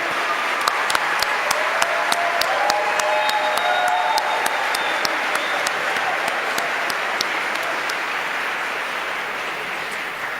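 A large crowd applauds steadily and loudly throughout, dense clapping filling the room without pause.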